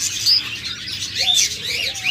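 Budgerigars chirp in a busy chorus of bright, warbling high notes and short whistles, close and continuous, with no voices over them.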